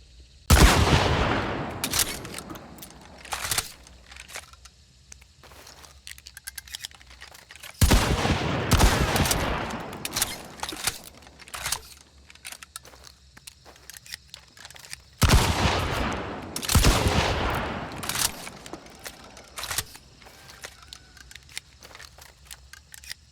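A Romero 77 Alamo shotgun in the video game Hunt: Showdown fires three loud, booming blasts several seconds apart, each followed by clicks and clacks of shells being loaded and the action being worked.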